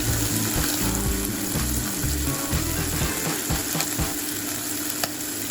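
Spiced ground meat, seasoned with seven-spice mix and turmeric, browns over high heat in a pot for a stuffed pumpkin dish, giving a steady loud sizzle with frequent scraping stir sounds and no voices.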